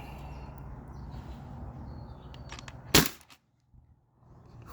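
A modded T4E HDB air gun fires once on a full-pressure 20 oz CO2 tank, a single sharp loud crack rising above low background noise and followed by quiet.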